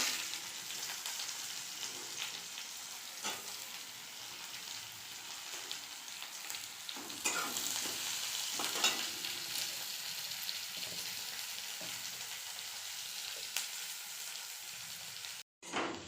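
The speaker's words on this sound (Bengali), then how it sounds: "পেঁয়াজ ভাজা হয়ে গেছে" Chopped onions fry in a pan with whole garam masala and cumin seeds, a steady close sizzle running throughout with a few soft stirring scrapes and brief clicks, no voices.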